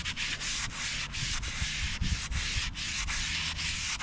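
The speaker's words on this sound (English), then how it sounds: "you kind of just start scrubbing all that black stuff out of there" A brush scrubs black grime off a dirt bike during washing, with brisk, rhythmic rasping strokes about three per second, close and steady, and no voices.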